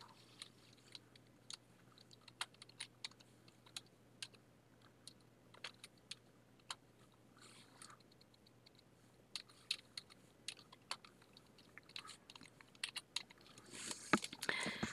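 Typing on a computer keyboard in a word processor: scattered soft clicks and keystrokes, quiet and close, in irregular bursts with brief pauses, growing busier toward the end.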